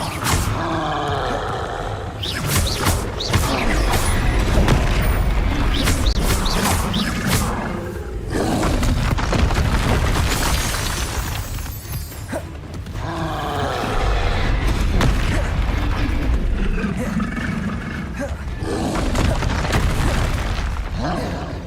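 A Confringo fire spell exploding in the Hogwarts Legacy video game, a loud booming blast with roaring rumble that swells and fades in repeated waves, layered with other game sounds.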